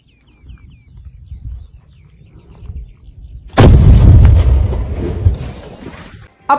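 The Ukrainian army blowing up empty Russian tanks in the field, a loud explosive blast with a long rumbling roll-off after quiet low rumbling, with birds chirping faintly at the start.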